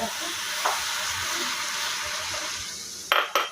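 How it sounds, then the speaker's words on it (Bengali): Spices fry with a steady hiss in a hot pan, broken by occasional stirring scrapes and a couple of sharp clanks of the spoon against the pan near the end. "এটাকে ভালো করে একটু মশলা দিয়ে আবার দুই চারটা মানে নাড়া দিয়ে ভালো করে একটু ভাজা ভাজা করে ফেলবো"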